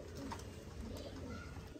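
Pigeons in a breeding loft coo softly and repeatedly, a faint, low, murmuring burble over quiet background hiss.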